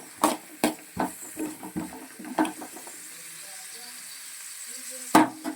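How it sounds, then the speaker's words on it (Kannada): Carrots and beans fry and get stirred in a pan for hotel-style Schezwan fried rice, giving a soft steady sizzle broken by clattering scrapes and taps of a utensil, mostly early and once near the end. "ಸೊ ಇಷ್ಟೂ ಈಗ ಆ್ಯಡ್ ಮಾಡಿ ಸ್ವಲ್ಪ ಹೊತ್ತು ಫ್ರೈ ಆಗಲಿ"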